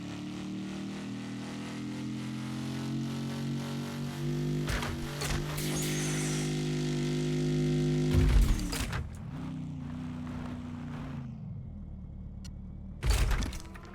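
Video game vehicle engine revving, with a steady droning tone and stacked harmonics, a brief thump and dropout midway, then a quieter hum and another short burst at the end.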